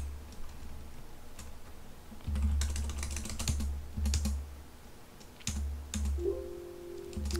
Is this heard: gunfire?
no